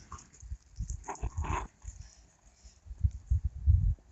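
Small dogs whimpering and yipping close by in short, soft bursts with brief pauses between them.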